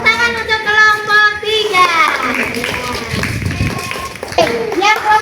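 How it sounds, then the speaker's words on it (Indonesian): Children in a classroom clap for a group of classmates, uneven handclaps running in the middle of the stretch with a teacher and children talking before and after. "tepuk tangan untuk kelompok"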